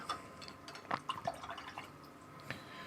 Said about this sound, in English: So I just wash my brush.